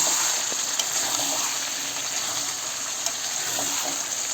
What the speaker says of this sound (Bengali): মাংসটা দিয়ে একটু নাড়াচাড়া করতেছি